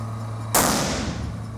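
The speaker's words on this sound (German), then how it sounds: "Der erste Schuss geht daneben." A single loud shotgun blast rings out during clay shooting practice, a sharp crack with a short decaying tail over a low steady background hum.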